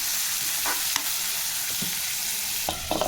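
Onions sizzle and fry in a pan for chicken curry, a steady broadband crackle with a few stirring scrapes and clicks, close and continuous with no talking.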